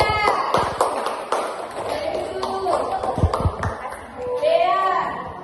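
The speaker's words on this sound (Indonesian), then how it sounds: "Tepuk tangan untuk Kila" Scattered applause from pupils in a classroom lesson, a brief burst of uneven claps mixed with children's voices and thumps, followed by a teacher speaking.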